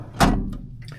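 A storage drawer holding drill bits and hole saws aboard a liveaboard yacht slides open with one loud, close rattling thud, followed by a couple of lighter knocks as the contents settle.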